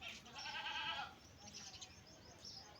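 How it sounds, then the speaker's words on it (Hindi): A dairy goat of a high-milk breed, mother of three kids, gives a couple of bright wavering bleats up close, then quieter bleat fragments follow over a soft outdoor background. "ये देखिए बकरी"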